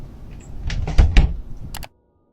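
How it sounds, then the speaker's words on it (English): A series of muffled thuds and knocks against a door, building to a couple of heavier bangs before stopping abruptly. "the skinwalker seems to writhe around and bang on the opposite side of the door, but when Andy opens it"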